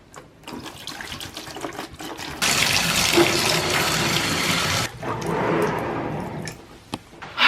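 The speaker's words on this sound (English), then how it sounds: "I am just going to fill this thing up with some bleach and cover it with some water" Water runs from a tap into a bucket being filled with bleach and water, a steady loud rushing pour that starts partway in, then shifts to a lower, fuller filling tone before cutting off near the end.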